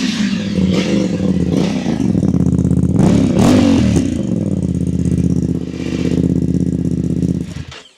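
A BMW F900 GS motorcycle fitted with a de-catted Dominator aftermarket exhaust revs loudly and close up, its harmonic engine note rising and falling through several throttle blips over a steady, rumbling idle, with no talking.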